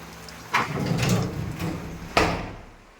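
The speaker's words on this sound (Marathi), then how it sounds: "दरवाजा वाजायला तिथं वारे यायले" Amid strong wind and rain, a door bangs and rattles, with two sharp knocks roughly a second and a half apart and a rumbling slide between them, then fading into a quiet windy hush.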